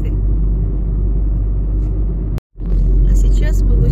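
Steady, loud low rumble of a car cruising along the Vidzeme highway in Latvia, heard from inside, with a brief dropout midway before the road drone resumes; a voice talks over it.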